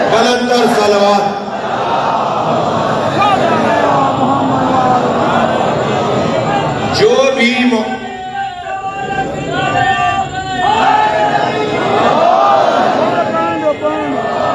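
A large religious gathering at a Shia majlis loudly recites salawat together. A dense, roaring chorus of voices fills the space, swells and surges, and continues throughout.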